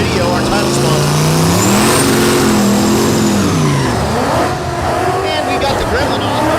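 Drag race car launching at Thunder Valley in Noble, Oklahoma, a loud engine roar sweeping up in pitch and then falling away, with a race announcer talking over it.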